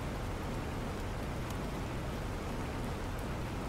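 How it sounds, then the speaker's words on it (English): Rain pouring steadily in the survival game Planet Crafter, a dense, even hiss of falling water with no pauses, moderately loud and without talking. "Is that how it's raining inside?"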